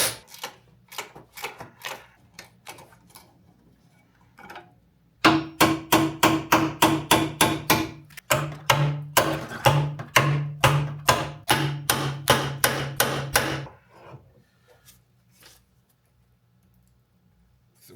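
Sharp hammer strikes on a car's bent metal bracket near the headlight, first scattered, then a fast, loud burst of evenly spaced blows with ringing overtones, tapering off into a few quiet taps.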